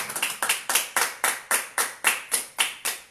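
A church congregation claps in steady unison, about a dozen sharp, evenly spaced claps at a brisk rhythm, loud and close, with no talking.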